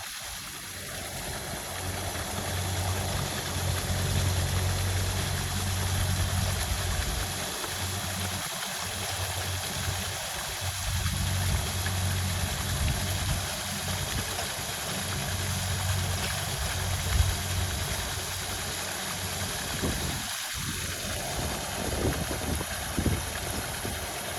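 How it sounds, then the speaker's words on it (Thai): A motor-driven aerator churns a pond or tank of water, run without mains power, producing a steady low engine drone with continuous splashing and rushing water throughout, fairly loud and close, with no talking. "เอาเครื่องมาปั่นน้ำนะครับ"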